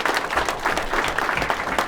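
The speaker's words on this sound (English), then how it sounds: "Give yourself a round of applause." A room of football players gives steady applause, dense overlapping hand claps filling the short stretch at a fairly even, moderate level.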